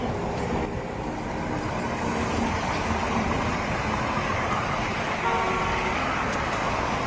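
A convoy of luxury cars travels along the road between Lucknow and Prayagraj, producing a continuous roar of engines and tyres with passing traffic, a faint horn toot, and no clear voices.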